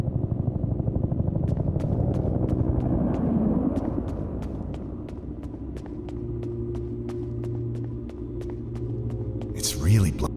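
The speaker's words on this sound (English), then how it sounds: "Is that the evac chopper?" An evacuation helicopter from the horror point-and-click game Peridium approaches with a low, steady rotor rumble and rhythmic chopping, over a wintry setting.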